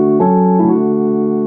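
Piano chords in a transition progression, with two struck chords close together and then a sustained ringing tone.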